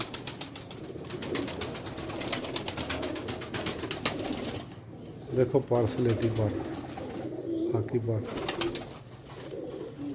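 A fine pigeon coos in repeated low, throaty bursts near the middle of the stretch, while someone talks over it and other birds chirp in the background.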